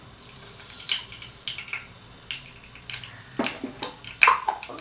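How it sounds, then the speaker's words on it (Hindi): Mustard seeds fry in hot oil in a home kitchen, a low sizzle broken by scattered sharp pops and crackles close by. "Let the mustard pop."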